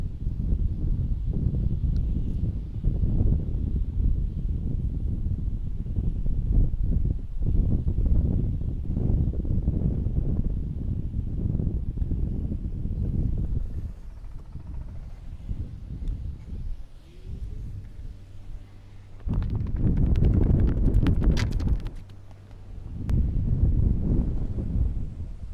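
Strong wind buffets the microphone on a golf course at Royal Westmorland, a loud sustained roar with gusts that ease briefly and then surge again near the end.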